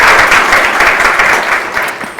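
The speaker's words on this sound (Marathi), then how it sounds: "जोरदार टाळ्या तिच्यासाठी सुद्धा झाल्या पाहिजे" Loud, sustained applause from an audience at a police recruitment felicitation ceremony, steady clapping that fades slightly toward the end.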